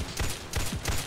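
Silenced guns fire in the Roblox game Headcrab Infection, three suppressed bursts in quick succession, each a soft muffled thump with a hissy tail, fairly close and loud, with no talk over them.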